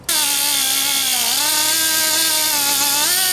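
A cutoff wheel whines steadily as it cuts a relief into the wing part of a wing compass. The high pitch dips briefly and recovers, loud and close, with no talk.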